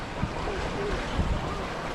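A sailboat under way on the St. Lawrence River runs at hull speed through waves, with a steady rushing wash of water and wind buffeting the microphone and a few low thumps of hull on swell.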